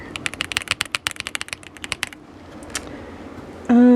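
Rapid keystrokes clack on a pre-built keyboard with linear switches, a close, crisp burst of typing that stops after about two seconds, followed by a brief tone.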